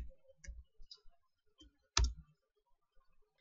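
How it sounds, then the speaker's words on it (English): Sparse, crisp clicks from a computer keyboard sound close and dry in a quiet room while someone types into a web browser, with one sharper, louder keystroke near the middle and a few soft taps after it. "open up your web browser and type PayPal"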